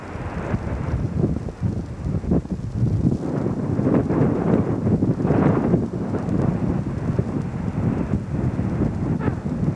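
Strong wind gusts buffet the microphone at a scenic coastal spot in Donegal, Ireland, a loud continuous rumbling roar with surging bursts and no voices.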